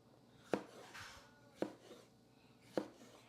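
Kitchen knife slicing a gloved-held jalapeno on a cutting board, three crisp evenly spaced chops about a second apart, close but quiet.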